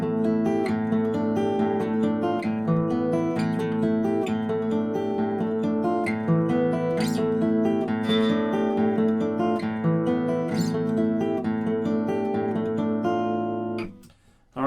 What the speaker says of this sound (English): That's back to a finger-picked acoustic,